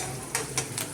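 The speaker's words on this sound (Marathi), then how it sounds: "जरा शेंगदाणे थोडे भाजले पाहिजे।" Peanuts roasting in a pan at breakfast time, a steady low sizzle broken by three short scraping stirs spaced about a quarter second apart, close by and without talk.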